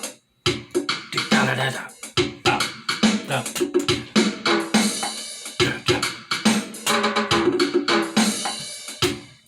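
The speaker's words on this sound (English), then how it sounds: "So that's the drum pattern that I originally worked out" A programmed drum pattern built on drum pads and a drum machine, with steady, punchy hits in a repeating groove and some tonal, ringing layers over about nine seconds.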